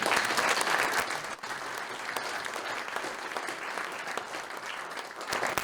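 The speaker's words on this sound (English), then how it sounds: "can we give one more round of applause for Connie Ashford for setting up" A room full of people at an MLK Jr. breakfast in a Cohasset church parish hall applauds together, steady dense clapping with a few sharper individual claps standing out, continuing throughout at moderate volume.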